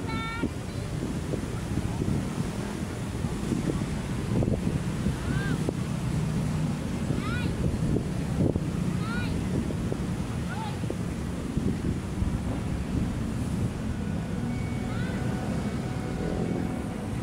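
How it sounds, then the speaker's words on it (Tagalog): Strong wind buffets the microphone over a constant rumble of rough surf on Manila Bay, with faint voices and bird calls here and there beneath. "At magalaw na yung ating dagat."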